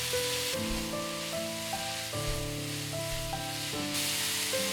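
Thick glass noodles and sauerkraut fry in a pan with a steady close sizzle, heard under loud, continuous tonal background music.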